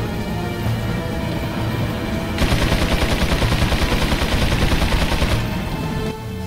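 Sniper gunfire in the Resident Evil 4 video game: a dense, loud stretch of rapid shots over steady background game noise, lasting several seconds before cutting off.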